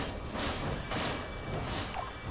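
A toy New York steam train engine runs while submerged in water, giving a steady, close whirring and rumbling with soft rhythmic swells as it struggles forward; no voices.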